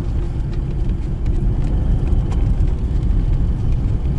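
A VAZ 2106 rear-wheel-drive car driving on the road with a steady, loud low engine rumble and drivetrain whir from inside the cabin, continuous throughout as it shifts up into third gear.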